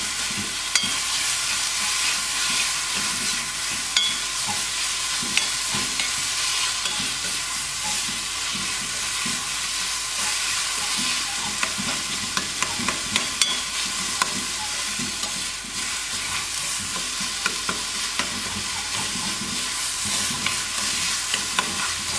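Tomatoes fry in a pan for Kerala-style chicken keema, giving a loud, steady sizzle with frequent scraping stirs throughout. No voices are heard.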